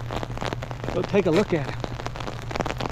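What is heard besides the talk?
rain falling on a field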